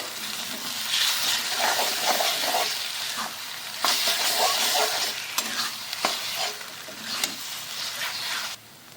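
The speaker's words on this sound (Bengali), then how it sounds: "এবার আমি একটু নেড়ে দেবো" Mashed eggplant bharta stirred and frying in a pan, a steady close sizzle with scraping spatula strokes and occasional knocks against the pan.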